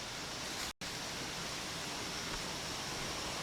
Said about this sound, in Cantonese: 聽唔聽到流水聲啊？